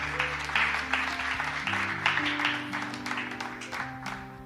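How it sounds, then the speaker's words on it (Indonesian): Applause from guests at a Christian wedding ceremony, a moderate scattered clapping heard over sustained low organ or keyboard tones that play underneath. "Kita beri tepuk tangan yang meriah."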